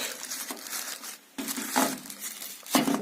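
A plastic packet holding parts of a video surveillance system is torn and opened by hand close up, making bursts of crinkling and rustling separated by short pauses.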